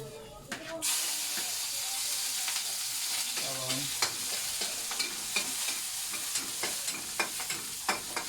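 Garlic frying in a pan for chicken sinampalukan, a steady close sizzle and hiss with frequent sharp clicks and scrapes of stirring, no talk.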